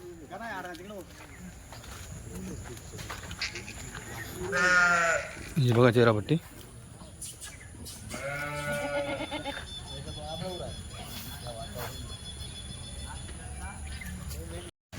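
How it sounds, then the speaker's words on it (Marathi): Kathiawadi goats bleating at a livestock sale, several wavering calls bunched around the middle of the stretch, fairly close, with someone talking over and between them. "हे बघा या शेळ्या"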